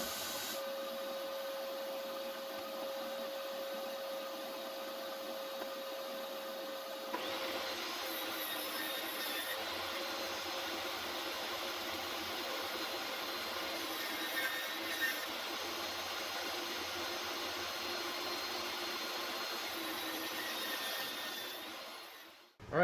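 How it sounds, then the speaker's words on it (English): A jointer planing thin pallet-wood boards for a shed floor: a steady, loud machine whine and broadband cutting roar starting after a quieter motor hum, running continuously until cutting off at the end. "now that we got the one side jointed"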